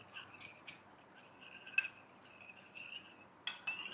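Spoon mixing cornflour into milk in a small container at home, a quiet series of light clinks and scraping taps against the vessel, irregular and close, with no talking.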